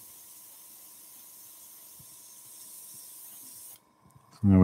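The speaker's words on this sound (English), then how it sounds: "I'm using the air to hold that stencil down." Compressed air hisses in a steady, even stream to hold a craft stencil flat on wood, with a faint whine over it. It cuts out briefly near the end before a louder burst begins, and no one speaks.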